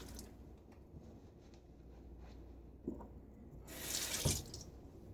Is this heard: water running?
yes